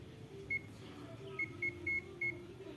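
A multimeter in buzzer mode sounds short, faint electronic beeps while testing a sensor ground pin on a KIA Picanto: one quick beep, then a cluster of four brief tones against a low, quiet background hum.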